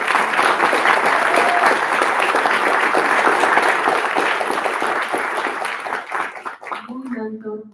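An audience at a public-speaking panel discussion gives a loud, dense round of applause that holds steady, then thins toward the end as a voice begins speaking.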